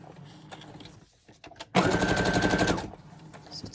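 Sewing machine running a zigzag stitch on a junk journal craft project, a short burst of rapid rhythmic clatter lasting about a second, preceded by quieter handling clicks and rustles.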